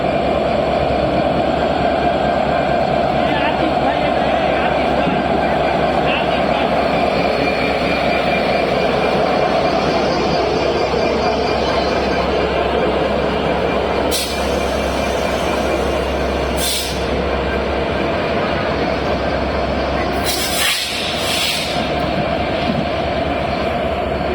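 The Maitree Express international passenger train rumbles past steadily at night for a long stretch, with clattering wheels and a few sharp hissing bursts near the end.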